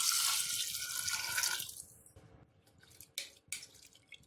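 Water pours into a pot for shami kabab, a bright splashing gush that tapers off within two seconds, followed by a few faint drips and small clinks in a quiet kitchen.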